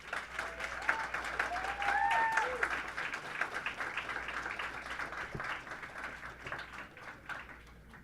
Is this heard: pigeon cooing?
no